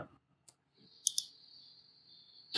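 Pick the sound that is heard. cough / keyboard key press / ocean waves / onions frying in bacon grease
keyboard key press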